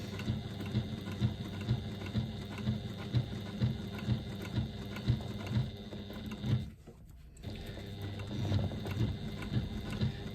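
A sewing machine runs top stitching on a twist pouch, producing a regular, moderately quiet mechanical stitching rhythm that pauses briefly partway through and then resumes, with no speech.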